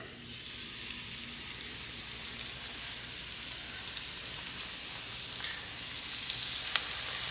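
Panko-coated fish fillets fry in a big pan with a steady, quiet sizzle and scattered small pops and crackles, alone with no talk.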